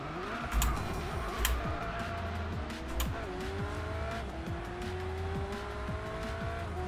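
An Alfa Romeo 4C in a racing video game sweeps through corners, its engine droning and shifting pitch while the tires squeal repeatedly, steady and fairly close.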